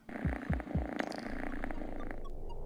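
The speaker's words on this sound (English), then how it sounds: "There was a purring noise." A robot cat in a video game purrs, a soft rhythmic rumble that opens with three pulsing thumps and then settles into a steady low purr under bright synthetic game tones; no speech.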